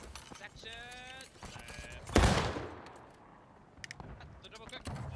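Musket fire in the Civil War video game War of Rights: a single loud, close volley crack rings out and decays with a rolling echo, with sharper distant shots popping afterward. Voices are heard around the shooting.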